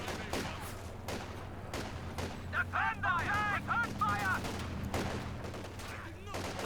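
Bursts of small-arms gunfire and machine-gun fire from a Company of Heroes 2 battle, with a commentator talking over the clatter and some louder bangs in the middle.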